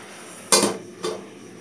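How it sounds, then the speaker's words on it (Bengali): A lid is set onto a cooking pot of nearly boiled potatoes, giving two close metallic clanks about half a second apart, the first louder, over a quiet background. "এটা আর একটু ঢাকনা দিয়ে রাখি।"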